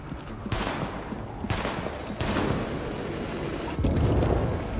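Bursts of rapid gunfire crackle in several volleys in the video game Tom Clancy's The Division, dense and loud, separated by brief pauses.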